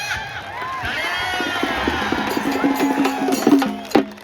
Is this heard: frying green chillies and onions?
no